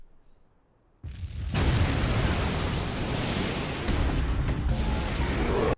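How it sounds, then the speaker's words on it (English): A sudden, huge explosion erupts in a My Hero Academia anime episode, a loud sustained roaring blast that starts abruptly and rumbles on for several seconds before cutting off. "That big ass explosion was finally Shigaraki making him submit."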